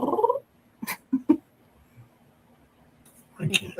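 A voice imitates a cat's noise in place of a purr, giving a few short throaty bursts, with a quiet voice before and after.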